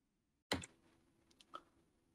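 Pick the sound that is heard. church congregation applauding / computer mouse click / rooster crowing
computer mouse click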